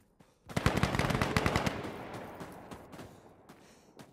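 A rapid burst of automatic machine gun fire from a 5.56 weapon in the shooter game Insurgency: Sandstorm, loud and close for about a second, then trailing off into a decaying rumble with a few scattered later shots.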